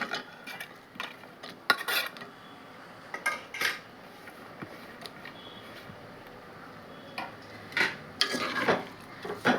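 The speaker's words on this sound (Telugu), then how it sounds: "ఉల్లిగడ్డ ముక్కలు వేస్తున్నాను." Onion pieces being tipped and stirred into a pan of okra stew, giving scattered metallic clinks and scrapes of utensil on pan against a quiet background.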